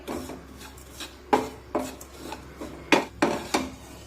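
A spoon scrapes and clatters against a pan as jowar flour is stirred and roasted, a series of close, irregular scraping strokes with no one speaking.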